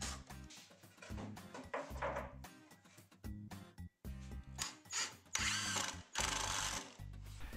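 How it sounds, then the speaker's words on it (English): A power drill drives screws into plywood and spacer blocks for a shelf frame, in repeated short bursts of whirring with brief pauses between them, close and fairly loud, with no talking. "pre-drilled and screwed those into place on all 4 corners of the frame"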